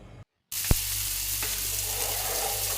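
Mackerel frying in a pan with green peppercorns: a brief silence, then a steady, loud, close sizzle with a single knock near the start, and no voices.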